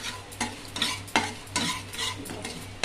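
Samba rava and poha stirred and fried in ghee in a pan for payasam: a steady sizzle under rhythmic scraping strokes of a spoon, close and alone with no talk.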